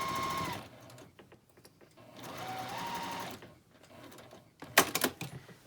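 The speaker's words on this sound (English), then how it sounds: "line it up with the center of my presser foot, and then just sew a seam straight down" A sewing machine stitching a quilt binding seam runs in short, steady whirring bursts separated by pauses, with a few louder clacks near the end.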